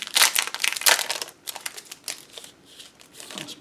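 Chipboard stickers for a card kit are pulled from their plastic package, giving close, busy crinkling and rustling in bursts, loudest early on and then settling into softer intermittent handling.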